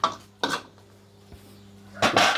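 A serving plate for stir-fried kale with crispy pork belly clatters against a hard surface, with a few sharp clinks and knocks spaced out over a couple of seconds, close and alone.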